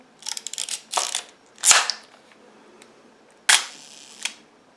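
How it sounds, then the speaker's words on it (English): A Voigtländer Bessamatic film camera fires its shutter at a half-second speed: a close burst of small mechanical clicks and winding ratchets, then a sharp open snap, a pause, and a second distinct close. "See if I can get it on a slower shutter speed for you."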